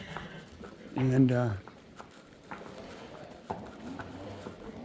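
Horse hooves clip-clop at a walk while a mare is worked in a training session, soft and steady, mostly buried under a person's talking.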